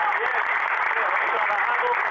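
An assembled audience in Oruro gives a round of applause to people who worked to restore the civic committee, a dense, even, continuous patter of many hands, loud and steady throughout.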